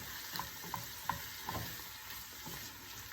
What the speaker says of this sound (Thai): แล้วเราก็ผัดไปสักแป๊บหนึ่ง